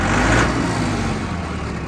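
A Mahindra 4550 4WD tractor engine runs steadily at close range, a continuous low rumble with no breaks.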